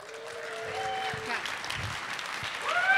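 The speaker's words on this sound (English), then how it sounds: "So give yourselves a round of applause" At the ng-conf 2022 community keynote the conference audience applauds: a brief stretch of scattered clapping and crowd noise, moderately loud, with a voice and a tone running over it.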